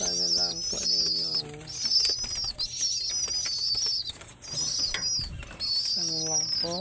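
Pet pigeons coo and call close by, with soft fluttering and rustling throughout, as a person speaks over them.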